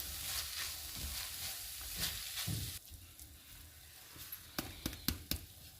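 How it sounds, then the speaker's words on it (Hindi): Stirring a chicken sandwich filling with tomato ketchup and green chilies in a pan, with a soft sizzle and scraping stir that settles into quieter sizzling broken by a few sharp utensil taps. "अब इसमें हम टमाटो केचप डालेंगे, सब्ज़ मिर्च डाल देंगे और इनको मिक्स कर लेंगे"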